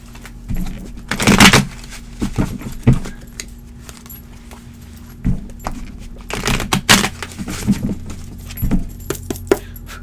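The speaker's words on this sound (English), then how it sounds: "Quick shuffle." Tarot cards are shuffled in quick bursts of crisp riffling and slapping, close up, with short pauses between handfuls over a low steady hum.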